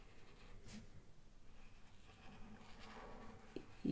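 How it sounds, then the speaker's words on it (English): Writing on paper with a Pentel Brush Sign Pen Twin, a faint, soft scratching and brushing of the tip across the paper over quiet background hiss. "let's see how it writes hello."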